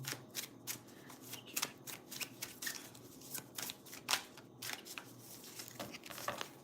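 Tarot cards are shuffled close up in a quiet room, giving a rapid run of soft riffling flicks and slaps that goes on steadily.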